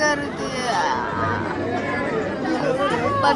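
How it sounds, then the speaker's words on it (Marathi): Crowd chatter fills a temple queue, a steady dense babble of many voices close around, with nearby people talking over it. "किती गर्दी आहे बघा."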